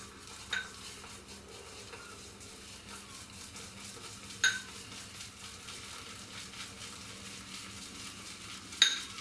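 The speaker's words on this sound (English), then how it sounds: "I'm not really making the lather in the bowl, I'm basically just loading the brush up" A shaving brush swirls against Spanish budget soap in a small, clangy metal bowl, giving a soft wet churning with three sharp clinks as the brush knocks the rim.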